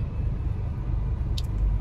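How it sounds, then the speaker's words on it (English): Car driving in road traffic, a steady low engine and road rumble heard from inside the vehicle, constant and fairly loud with a brief faint high chirp near the end. "so I'm in traffic"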